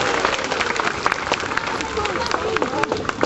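An audience at a sea lion show applauds with dense, steady clapping and scattered cheers, while a voice talks over the crowd.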